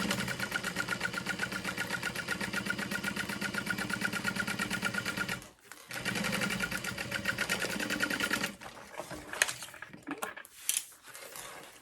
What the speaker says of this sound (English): you're just gonna sew right next to it